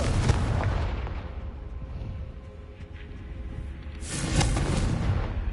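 Fiery blasting spell bursts in Hogwarts Legacy, a loud booming explosion at the start and another big blast near the end, with rumbling low-end energy between them.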